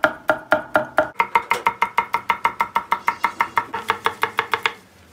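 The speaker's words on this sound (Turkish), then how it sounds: "Havucu özellikle doğruyorum." A knife chops carrots steadily on a cutting board, about two dozen crisp, evenly spaced knocks in quick rhythm, close and clear with no voices.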